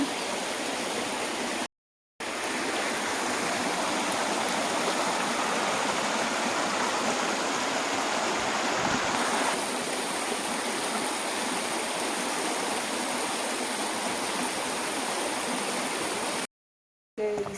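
Steady rushing of a flowing stream near a house, running low for lack of rain, continuous and fairly loud throughout, with no voices, briefly cut out twice.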